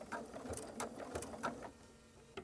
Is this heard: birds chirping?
no